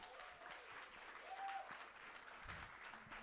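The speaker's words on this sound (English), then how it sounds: "Let's applaud the poet." Faint, distant applause from the audience at a Canadian poetry slam for a poet just scored by the judges. The crowd clapping is quiet and steady, with a brief tone and a low thump partway through.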